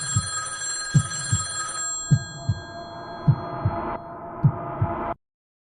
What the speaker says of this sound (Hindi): एक रात करीब 2 बजे राहुल का फोन अचानक बजा।